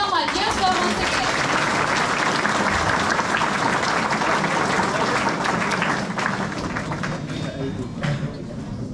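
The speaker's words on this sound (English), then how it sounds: "Let's give a round of applause and welcome our dear sir once again." Audience at a college student-police interaction event applauds to welcome a guest, sustained dense clapping, loud and close, tapering slightly toward the end, with voices faintly mixed in.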